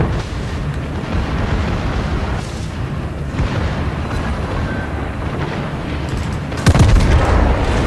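Secondary guns on a World of Warships battleship fire at enemy ships. The result is a dense, continuous rumble of booming naval gunfire and explosions, with a heavier blast near the end and no talking.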